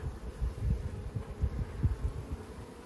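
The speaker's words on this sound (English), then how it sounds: "I'm trying to touch the bees and he moves it." Low, fluttering drone of many honeybees buzzing nearby during hive maintenance, uneven and pulsing, with no talking.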